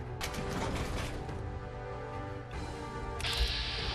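Decontamination-chamber machinery in Fallout 4 whirs and clanks in a dense mechanical churn, with ratcheting and creaking textures. A sharper hissing release arrives near the end.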